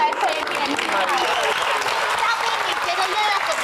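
A children's game-show studio audience applauds steadily, dense clapping filling the space with voices and chatter running over it throughout.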